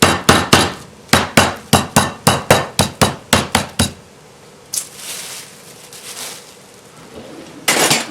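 A meat tenderizer pounds venison steaks in about fifteen sharp, rapid, loud thuds over the first four seconds, followed by quieter rustling and a final knock.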